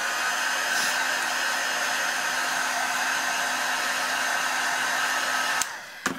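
A handheld hair dryer blows steadily and loudly on wet paint on an egg carton craft made to look like an old stone wall, running alone with an even whir before cutting off near the end.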